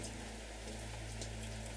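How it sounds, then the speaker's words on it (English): Gentle rain falls in a soft, steady hiss, faint and continuous, with no voices. "There is something relaxing, even magical, about the sound of a gentle rain."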